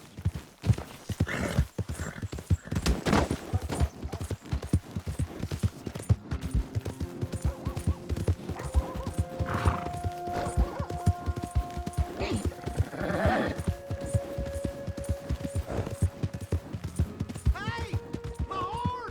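A horse gallops and neighs in the video game Red Dead Redemption 2: steady hoofbeat clip-clop runs throughout, with whinnies and tonal game music layered on top and a voice speaking at points.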